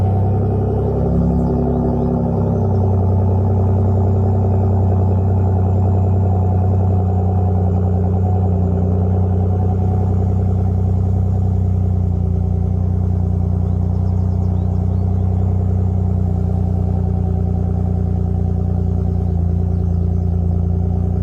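A Ford F150 with a 3.5L V6 EcoBoost runs through an aftermarket exhaust system, putting out a steady, deep idle rumble that holds loud and close for about twenty seconds, with a brief swell near the start.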